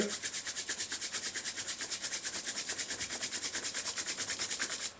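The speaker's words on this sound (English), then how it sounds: "Raise both hands up, rub the palms against each other." Palms rubbed briskly together during a yoga session, a steady rhythmic swishing friction close to the microphone, repeating evenly for several seconds with no talk.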